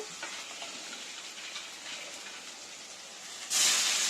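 Ingredients for egg rasam fry until reddish in hot oil, giving a steady close hiss and sizzle that swells suddenly into a louder, brighter rush near the end.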